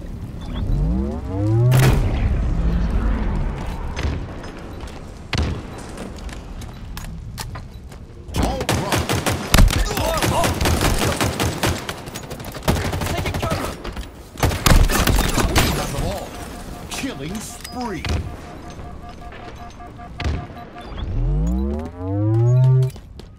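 Rapid bursts of gunfire from Halo Infinite weapons in an Oddball multiplayer match, with loud repeated volleys, heavier booming shots and stretches of sustained fire, while an announcer's voice cuts in now and then.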